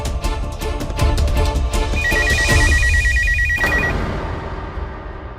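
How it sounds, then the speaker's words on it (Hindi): A phone ringtone rings out loud and clear in a Hindi television drama scene, a repeating electronic melody that plays alone for several seconds before stopping abruptly. "मिसेस पारिक का फोन है।"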